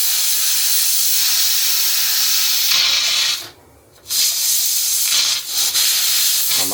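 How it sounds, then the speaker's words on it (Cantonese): Steam is let out of a cooker after a pork belly, shiitake and chicken dish finishes cooking. A loud, continuous close-up hiss drops out briefly for about half a second, then resumes at full strength. "依家放下啲氣先。"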